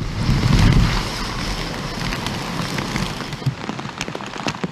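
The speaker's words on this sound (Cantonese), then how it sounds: "其中西環有狂風暴雨" Typhoon Nida drives heavy rain and strong wind along the waterfront in Hong Kong, producing a dense, steady roar of downpour with gusty surges, loudest at the start, with no voices.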